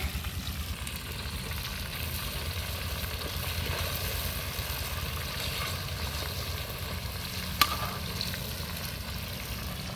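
Silver carp pieces fry in hot oil in a pan, giving a steady, even sizzle that runs the whole time with one brief sharp click near the end.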